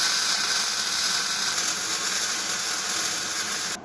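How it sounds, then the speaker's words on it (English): Welding a piece onto a steel weld cart and workbench produces a steady, loud, close hissing buzz that holds without a break for about four seconds, then cuts off abruptly. "But now this, get it welded on"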